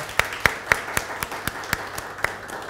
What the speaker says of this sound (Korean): 우리 환영의 박수 하겠습니다